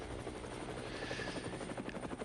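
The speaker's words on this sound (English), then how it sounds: "the helicopter is following him" Helicopter flying overhead following a road bike race stage in San Juan, a steady throbbing rotor drone that stays loud and constant without any talk.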